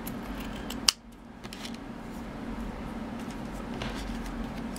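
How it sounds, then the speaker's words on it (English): Scissors trimming excess trim from a shabby-style holiday stocking, one crisp close snip followed by faint rustling of fabric in a quiet room. "then I just get my scissors and trim off the excess."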